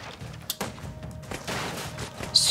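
Gunfire in an indie video game comes as a few scattered, moderately loud shots and thumps mixed with other game noise over a couple of seconds.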